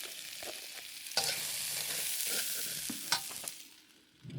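Onion, ginger and zucchini stir-fry in a wok for Szechuan duck, giving a quiet steady sizzle broken by a few sharp scrapes and clatters of stirring.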